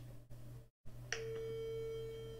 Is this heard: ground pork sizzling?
no